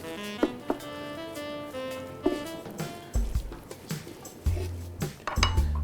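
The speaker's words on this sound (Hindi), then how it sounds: "इसको देते हैं एक मिक्स।" A spoon stirs chopped coriander and other ingredients in a bowl during millet cooking, producing clinks and scrapes against the dish, with a few louder knocks toward the end and no talk.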